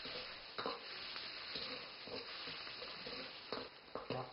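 Shrimp heads frying in oil with the rest of the shrimp, cooking together over low heat: a faint, steady sizzle with occasional soft stirring scrapes and clicks.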